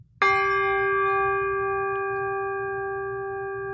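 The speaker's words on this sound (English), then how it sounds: "Well, big gong." A big gong struck once, ringing out with a sustained, steady metallic hum that slowly fades over several seconds, loud and alone.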